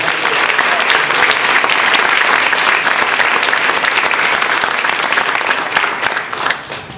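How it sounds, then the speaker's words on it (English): Loud, dense applause from a university audience welcoming a distinguished alum, sustained clapping filling the room and tapering off near the end. "Let's give Jonathan a round of applause now."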